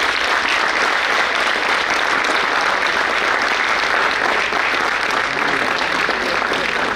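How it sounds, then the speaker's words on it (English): Graduates at a university convocation ceremony give their parents and families sustained, loud applause that rolls on evenly for several seconds. "have a huge round of applause for all of them"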